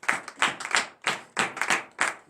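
A congregation claps in a steady rhythm during a morning prayer service in Comè, Benin, about six sharp bursts of clapping in just over two seconds, close and fairly loud with no talk.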